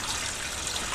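Water, 4.5 cups at 105 degrees, pours steadily into a bread dough mixing bowl, a continuous close trickling gush lasting the whole second with no talk.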